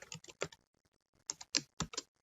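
Typing on a computer keyboard, two short bursts of quick clicking keystrokes separated by a quiet pause, close and crisp with no talking.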